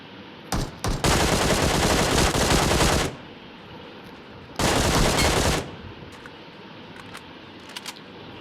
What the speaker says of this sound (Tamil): இங்கே தான் சவுண்டு கேட்குது, கன் சவுண்டு.